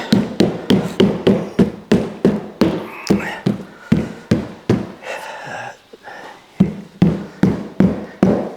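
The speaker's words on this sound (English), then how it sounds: "just bump it a little bit with my rubber hammer to make sure it's seated in real good" Rapid, regular taps from a rubber mallet seating replacement door glass on a Bobcat S185 skid steer, about two per second, with a brief pause midway before the steady thumping resumes.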